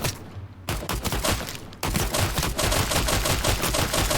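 Rapid automatic gunfire in the H1Z1 zombie video game, loud and close, fires in a dense stream, pausing briefly and then resuming as continuous bursts.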